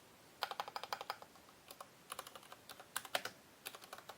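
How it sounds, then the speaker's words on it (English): Quick clusters of keystrokes on a computer keyboard, crisp and close, in bursts with short pauses, at low volume and with no talking. "we can open a new terminal and type the"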